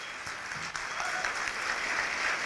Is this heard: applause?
yes